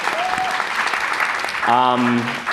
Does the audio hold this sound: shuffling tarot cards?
no